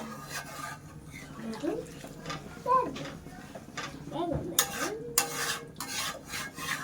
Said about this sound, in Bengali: এই জলটুকু দিয়ে দেবো দিয়ে ভালো করে নেড়ে দেবো